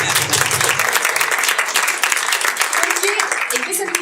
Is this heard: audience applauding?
yes